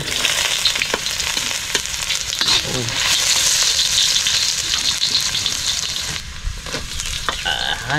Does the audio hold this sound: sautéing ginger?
yes